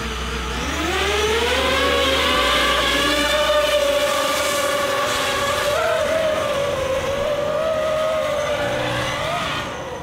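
A multirotor drone with many big propellers and new motors spins up, making a steady, close whine that rises in pitch and holds with slight wavering, with no voices.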